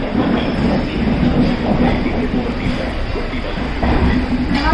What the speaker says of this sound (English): The train has started.